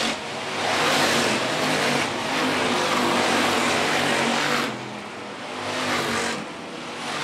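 Hobby stock race cars roar around a dirt track at Phillips County Raceway, engines rising and falling as they work out of a corner, a loud continuous rush of motor noise with no voices.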